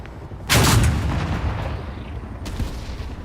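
A tank main gun fires in Hell Let Loose Vietnam, one heavy boom that rolls off into a long rumbling tail, followed by a fainter second thump at the end.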